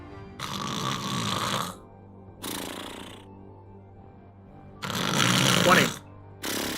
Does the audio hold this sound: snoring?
yes